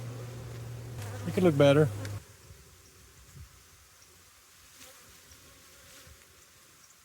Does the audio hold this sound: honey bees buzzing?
yes